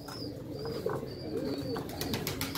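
Domestic pigeons at a Moroccan breeder's loft coo in low, rolling repeated calls, close and steady, with faint higher chirps and clicks behind them.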